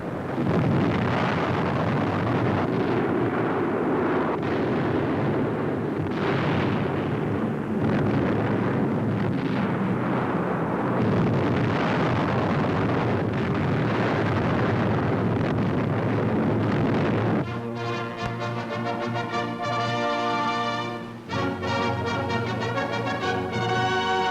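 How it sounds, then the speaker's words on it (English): Blasts and roaring concussion from low-level Allied air attacks on enemy war industries, a dense continuous rumble of explosions and wind-like noise throughout, loud and unbroken. "Dramatic films of devastating low-level attacks upon the enemy's war industries."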